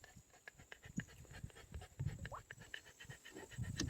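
A dog pants steadily in quick rhythmic breaths on a canoe float down the Elk River in Tennessee, close by, with faint water and paddle sounds and speech around it.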